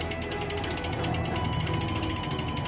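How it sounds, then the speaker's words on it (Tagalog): Rear hub ratchet on a Trek Marlin clone mountain bike, freewheeling with a rapid, even stream of crisp clicks, close and fairly loud with no talking. "So patutunugin natin uli yung tunog ng hop niya"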